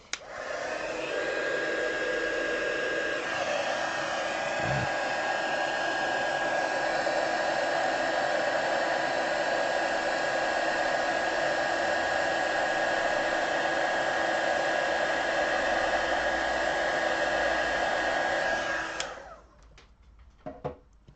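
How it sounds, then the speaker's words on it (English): An embossing heat tool blows a steady, loud whooshing hum for about eighteen seconds while melting stamp embossing powder on a cat-themed card, then switches off and leaves a few faint handling sounds. "Grab my heat tool."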